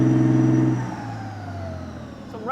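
A Challenger 2 tank's 1,200 horsepower engine revs loudly and steadily up close, a strong low throb that eases slightly in pitch and level after the first moment, with no talk over it.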